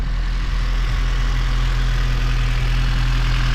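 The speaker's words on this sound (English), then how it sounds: "Despite everything that I've done to this car, it should be pretty loud, but it's very quiet." A 2005 Acura RSX Type S with 160k miles on its stock OEM exhaust idles quietly, a steady low hum with no revving, held evenly from start to finish.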